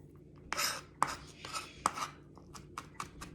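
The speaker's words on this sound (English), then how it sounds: "So I'm just chopping this garlic." Knife chopping garlic on a cutting board while making steak tacos, a series of sharp, irregular close taps with short pauses between strokes, loud and alone without talk.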